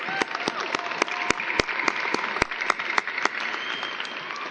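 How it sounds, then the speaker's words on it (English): Applause at a senior graduation ceremony for an award presentation, with sharp separate claps from a small audience standing out over a soft, steady patter. "If I could have another round of applause for this great accomplishment."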